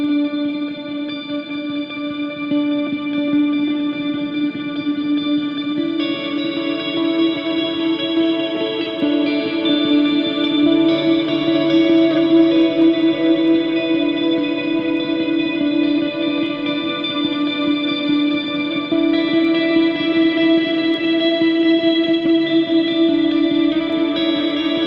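Electric guitar on the neck pickup run through effects, playing a sustained, chorus-washed passage with echo and light distortion, steady and loud for the whole stretch without talk.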